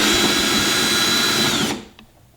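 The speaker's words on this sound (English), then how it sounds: "thanks to my handy dandy drill" Handheld power drill whirring steadily as it backs screws out of a hood panel, loud and close for well over a second before spinning down and stopping, followed by a faint clink.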